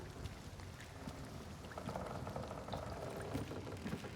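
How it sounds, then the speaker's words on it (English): A ghost splashing through water somewhere off to the west in a video game, a soft, continuous sloshing and churning that stays fairly faint and distant, swelling slightly toward the end, with no voices. "I hear him splashing around over the west still"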